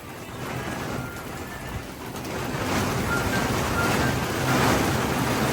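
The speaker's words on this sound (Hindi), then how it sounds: "आवाज़ आ रही है आपको बारिश की?" Steady, dense broadband wash of rain falling outdoors on plants and ground, building slightly louder partway through and continuing without a break, with no voices.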